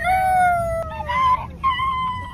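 Several people imitate chicken and turkey calls with their voices, trading short wavering squawks and warbling cries one after another, close and fairly loud.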